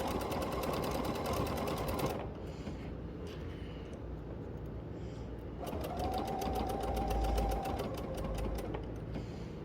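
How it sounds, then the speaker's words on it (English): Sewing machine stitching a top's neckline up to the pins, running steadily in two close bursts with a short pause between. "I'm really going to try to sew right up to my pins"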